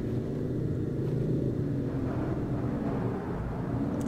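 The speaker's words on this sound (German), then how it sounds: "dafür, dass das Auto ja so ein fettes Teil letztendlich ist, hört sich der Motor jetzt nicht so besonders an" A large car's engine in the video game Final Fantasy XV drones as a steady, even low rumble without pauses, close and fairly loud throughout.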